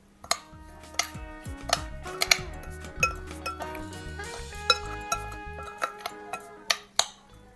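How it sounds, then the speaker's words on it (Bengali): Soy sauce, sugar, salt and sesame oil mixed in a bowl, a spoon clinking and tapping repeatedly against the dish in an irregular rhythm, close and fairly quiet. "এবার 1 চা চামচ পরিমাণ সয়া সস, 1 চা চামচ পরিমাণ চিনি এবং স্বাদ মতো লবণ দিয়ে খুব ভালো করে মিশিয়ে নেব।"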